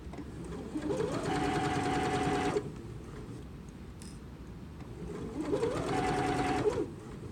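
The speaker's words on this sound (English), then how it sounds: "when you're stitching, your hand shouldn't be anywhere near the needle." A sewing machine stitching a seam on a patchwork pillow runs in two steady bursts of rapid mechanical whirring and needle clatter, with a brief quiet pause between them.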